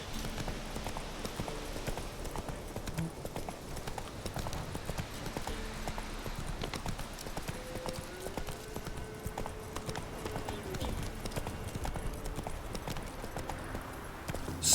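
Horse hooves clip-clopping at a steady gallop in the Witcher 3 video game, a continuous rhythmic drumming that runs throughout, with faint game ambience beneath.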